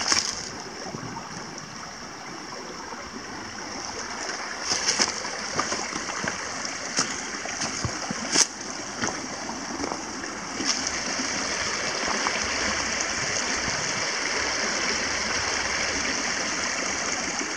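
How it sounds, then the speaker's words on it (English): Water from Sunfish Pond in Worthington State Forest trickles and rushes beneath a field of stones, a steady, close gurgling flow with occasional sharper splashes and knocks. "Sunfish Pond drains down under these rocks."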